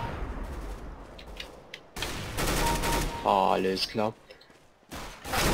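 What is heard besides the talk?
machine gun fire in the video game CS:GO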